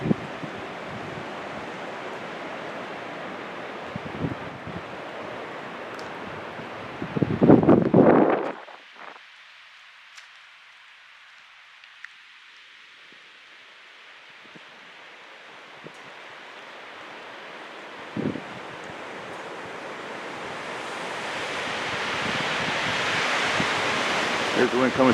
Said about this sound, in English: There's the wind coming through our trees.